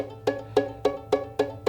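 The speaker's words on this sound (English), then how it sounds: "you can kind of make a little hammery sound like this with each finger" Six soft, evenly spaced taps of fingers hammering onto fiddle strings, each leaving a short pitched ring, close and quiet.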